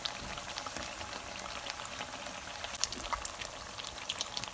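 Vegetable pakoras, including eggplant pakoras, deep-fry in bubbling oil, a close, constant crackle with many tiny popping bursts at an even level and no voices.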